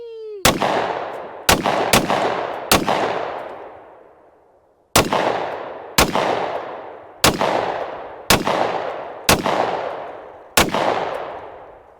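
A Hi-Point JXP10 10mm pistol fires at a range, ten loud close shots spaced irregularly with ringing decay after each, including a longer pause before the later volley.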